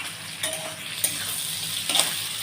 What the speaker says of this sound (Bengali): আলু, পেঁয়াজ, রসুন এগুলো মোটামুটি ভাজা হয়ে এসছে